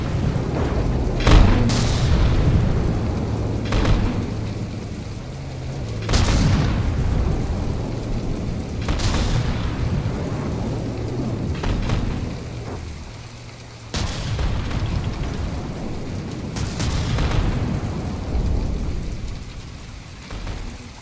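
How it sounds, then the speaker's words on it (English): Ship guns firing and explosions in the naval game From the Depths, a constant roar with repeated heavy booms every few seconds and no voices. "How's the Oxymoko doing now? It's firing its guns in anger."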